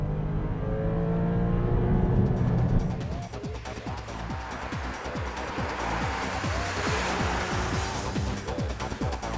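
A Porsche on a race track accelerates hard after a corner, the engine note climbing through a steady run of rising revs inside the cabin.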